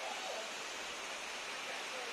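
Steady broadband rush of water from NB Waterfall at Arki, Solan, heard up close as a continuous, even roar with no breaks.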